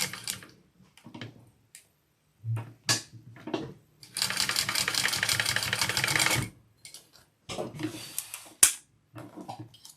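A sewing machine stitches fabric in a steady, fast rattling burst of about two seconds, with short start-stop runs and handling noises around it.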